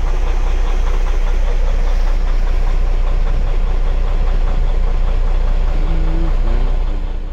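A Freightliner Cascadia truck's diesel engine runs at a loud, steady idle with a constant low rumble and knocking texture, up close and without speech.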